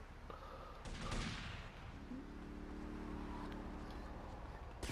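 Gunfire in GTA Vice City, a burst of shots in the first second, then ongoing game noise and a droning engine-like tone under it.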